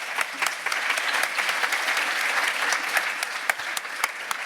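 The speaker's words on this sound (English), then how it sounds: "round of applause, everybody" An audience at a seascape restoration symposium claps after a talk, a dense and fairly even round of applause at moderate loudness, with a few sharper individual claps standing out.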